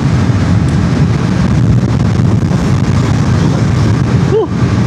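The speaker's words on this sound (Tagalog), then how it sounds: "Ang hangin." Constant rushing wind buffets the microphone at speed on a KTM RC 390 motorcycle, a loud low roar that never lets up, with a faint engine drone beneath.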